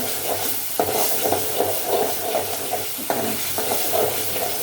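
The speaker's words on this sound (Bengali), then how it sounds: "এবার আমি আদা রসুনটা দিয়ে দিব রসুনটা একটু ভাজা ভাজা করবো" Ginger and garlic fry in oil in a pan, a close, steady sizzle broken by a few sharper scrapes of a stirring spoon, with no voices.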